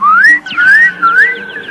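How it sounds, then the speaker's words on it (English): Birds singing in a children's cartoon story, heard as loud, clear rising and falling whistled phrases, three sweeping notes in quick succession with no talk. "Jimmy heard some birds singing."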